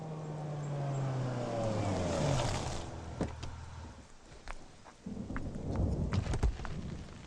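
Heavy rain with thunder: a deep rolling rumble swells and fades, then gives way to pattering, splashing rain with scattered sharp drops, fairly close and loud.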